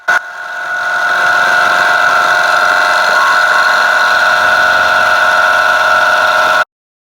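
A milling machine bolted to a welding table cuts metal with an end mill while making knife blanks, giving a loud, steady high-pitched whine and chatter of tool vibration that runs several seconds and then stops abruptly.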